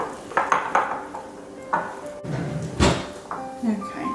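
Batter being stirred in a bowl, with irregular clinks and scrapes of a utensil against the bowl's side, close and moderately loud, in kitchen quiet.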